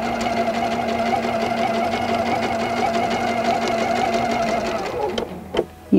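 A sewing machine runs steadily at speed during free motion quilting with a ruler, its close, even hum stopping near the end, followed by a few clicks and a brief voice.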